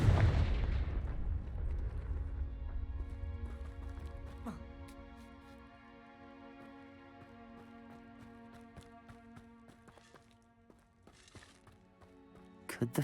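A Confringo spell explosion in Hogwarts Legacy erupts with a loud, booming blast at the start, then fades into a low rumbling tail with scattered faint crackles and game ambience.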